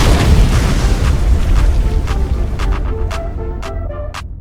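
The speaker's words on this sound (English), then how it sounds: "And a boom." Boom sound effect: a loud, deep rumbling blast that rolls on and slowly fades, with a few sharp crackling pops in the tail.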